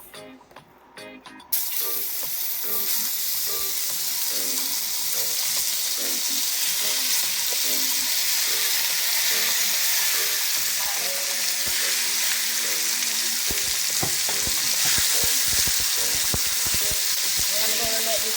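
Beef strips hit a hot pan with a sharp burst, then settle into a continuous loud sizzle and crackle for a beef stir fry, with faint clatter and possible running water behind.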